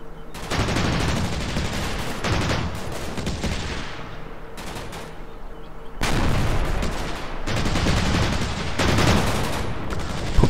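Heavy gunfire in the Combat Mission war game, with sustained bursts of machine-gun and rifle fire that come in loud waves, break off briefly, then resume densely up close, with no voices over it.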